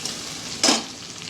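Chopped onion dropping into a pan of reddish-browned urad dal for upma, a brief sizzling burst rising over a soft background hiss, close and short, with no voices.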